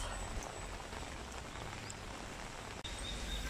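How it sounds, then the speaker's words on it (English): Steady heavy rain pours down in a dense, even hiss of drops hitting surfaces in Suncheon, South Korea, continuous and fairly close with no voices. "It's raining a lot."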